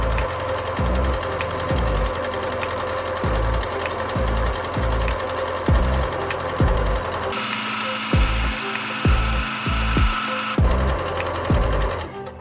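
Sewing machine running a zigzag stitch on fabric with plastic, its rhythmic mechanical knocking steady and close, then continuing with a slightly brighter whine, with no speech.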